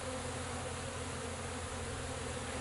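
Honey bees pour out of their hive on their first release after being cooped up, a dense, steady buzzing swarm close by with no pauses, heard alone.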